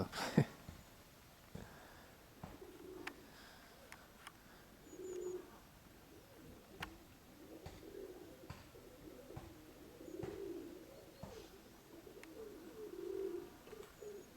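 Pigeons cooing softly in a yard in Konotop area, low rolling coos repeating every few seconds close by, with occasional light taps and rustles in a quiet setting.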